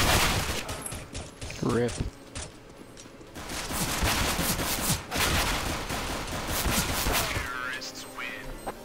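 Video game gunfire, with dense bursts of automatic shots and rattling fire running almost nonstop, loud and busy, while a player speaks briefly over it.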